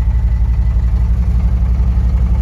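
A diesel truck engine idles with a slow, loping rhythm from a fault in the fuel injection pump, a steady deep pulsing throb heard close and alone.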